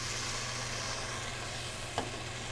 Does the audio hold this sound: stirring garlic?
yes